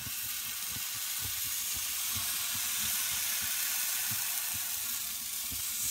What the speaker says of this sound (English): I'm just going to pour on my batter now.